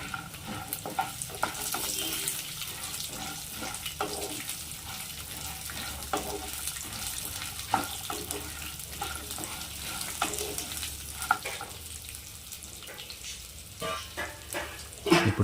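Curry leaves hit hot oil and sizzle steadily at moderate volume, with stirring scrapes and faint kitchen clatter mixed in.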